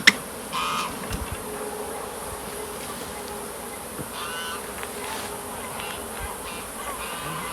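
Honeybees buzz steadily around a hive, a dense continuous hum with a few individual bees droning past, and some faint distant honking.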